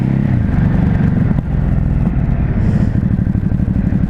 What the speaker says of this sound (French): Échappement de série.